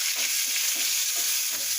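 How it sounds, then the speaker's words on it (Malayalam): Dried red chillies and curry leaves stirred in hot oil in a frying pan, a steady close sizzle with soft repeated scrapes of the spoon. "അതിന് ശേഷം ഇത്തിരി വറ്റൽമുളക് ഇട്ട് കൊടുക്കുക. കരിവേപ്പില ഇത് നന്നായി ഇളക്കുക."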